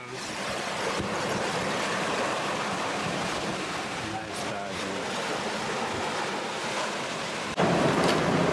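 Big waves and strong wind at sea heard from a sailboat, a steady loud roar of wind and rushing water, with a sharper gust or crash of spray near the end.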